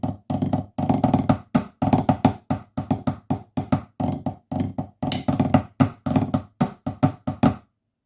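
Section four of the Illawalla marine solo on a snare drum: tight, rapid strokes grouped into phrases and rolls, close and steady for about eight seconds with no voices.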